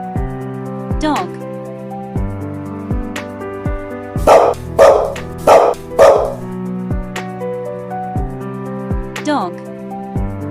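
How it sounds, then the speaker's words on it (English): A dog barks four times in quick succession, loud and close, over light background music, with a short gap between each bark. "Dog."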